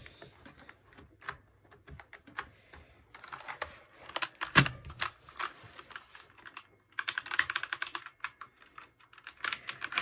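Rapid keystrokes on a computer keyboard in a gaming setup, clicking in irregular bursts, with a louder clatter near the middle and a busy flurry toward the end; close and alone with no voices.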